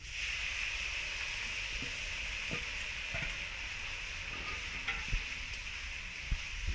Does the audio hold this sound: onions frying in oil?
yes